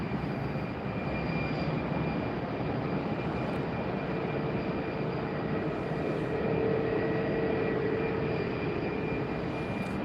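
Frontier airliners taxi at Tampa airport, their jet engines giving a steady, moderately loud broadband roar with a faint high whine, continuous and without speech.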